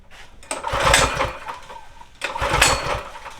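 A Nissan G35 with an LS engine swap cranks without firing, its starter churning in two rough bursts of about a second and a half each. The engine is not getting fuel.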